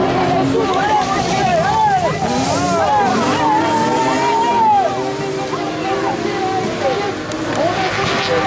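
Touring cars in the Maxi Tourisme final at Plouay, 2023, roar off the start with many overlapping engines revving and rising in pitch. The sound is loud and close, and wind buffets the microphone.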